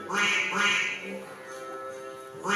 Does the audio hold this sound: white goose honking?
yes